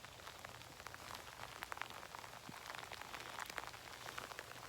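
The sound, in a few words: rain falling on a dairy farm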